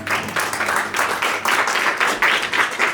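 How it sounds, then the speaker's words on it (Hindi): Audience applause and clapping at a live stage event, a dense wash of many hands clapping steadily throughout, fairly loud and close with no talking. "जोरदार तालियां।"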